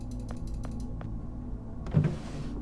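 A drawer slides open in The Silent Age video game with a short mechanical creak and clunk, following a few quiet ticking clicks over a low ambient hum.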